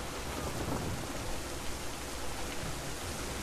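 A storm in the Assassin's Creed 3 naval mission roars continuously, dense hissing rain blending with low rumbling thunder, loud and steady without speech.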